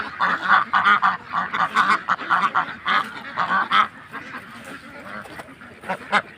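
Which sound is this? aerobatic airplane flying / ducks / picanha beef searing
ducks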